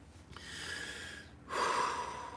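Heavy breathing as a breathing exercise: a long drawn inhale followed by a louder, forceful exhale, close to the microphone with no talking.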